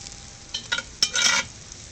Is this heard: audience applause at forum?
no